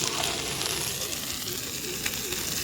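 Fish frying in oil on a tava outdoors at the edge of a forest: a loud, continuous sizzle and crackle of hot oil, steady and close, with no talk.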